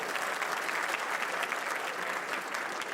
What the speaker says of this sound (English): Let's give a real round of applause.